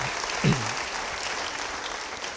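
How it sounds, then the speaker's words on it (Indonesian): Applause from a church congregation during a sermon, a steady crowded wash of clapping that fills the whole stretch at an even, moderate level, with a brief low murmur near the start. "Yang percaya beri tepuk tangan bagi dia."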